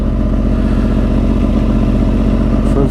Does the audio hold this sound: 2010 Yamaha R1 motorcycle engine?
yes